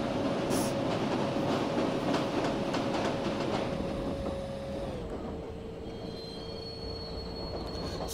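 The Karnataka Express rolling along while overtaking another train, squealing wheels with a sustained whine and rhythmic clickety-clack of rail joints, close and steady throughout.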